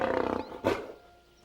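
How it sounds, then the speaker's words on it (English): A lion's roar from a children's sound-guessing game: a loud, rough, harmonic roar for about half a second, then a short, sharp second burst, trailing into a faint fade. "That's a lion roaring."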